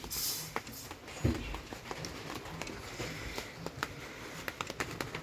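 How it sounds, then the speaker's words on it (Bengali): Light rain patters steadily, with scattered sharper drops tapping close by over a soft hiss. "বৃষ্টি তো এখন হচ্ছে টিপ টিপ করে"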